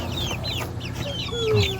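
Chickens in a chicken tractor cluck and chirp nearby, several birds overlapping continuously, with soft background noise and a faint voice.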